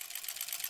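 A sewing machine stitches through quilt layers and sashing seams on granny-square blocks, a rapid even chatter of needle strokes, steady and fairly quiet.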